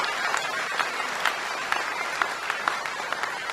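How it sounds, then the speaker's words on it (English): Graduates and guests at the Townsend Harris 2023 ceremony applaud themselves, a steady wash of many hands clapping in a large hall, even in level throughout with no voices. "Give yourselves a round of applause."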